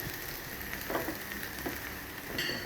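Soaked, squeezed puffed rice tipped into a hot pan for poha upma, giving a soft sizzle and frying crackle with light scraping and stirring, fairly quiet and close.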